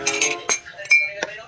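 Glass clinks and taps against hard surfaces in a few sharp, bright hits at close range, with faint murmuring voices in the background.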